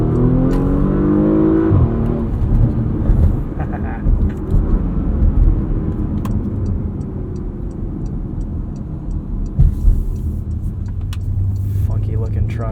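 A 2022 Porsche Macan S engine roars and revs hard as the SUV launches under launch control and accelerates, loud and close, with rising gear tones and some ticking noises mixed in.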